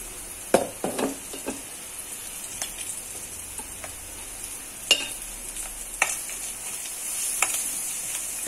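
Onions frying in a pan for lemon rice, a soft continuous sizzle broken by scattered clicks and scrapes of stirring, close and fairly quiet with no voices.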